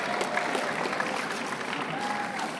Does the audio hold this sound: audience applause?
yes